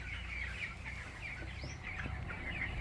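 Soft clucking and occasional chirps from a group of chickens on a poultry farm over a steady low background hum, continuous with no talking.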